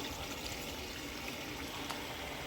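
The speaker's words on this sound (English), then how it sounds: "I'm just gonna add my lentils that I boiled" Boiled lentils and their cooking water are poured into a pan of curry with okra, giving a continuous, close, soft wash of liquid splashing without any talk.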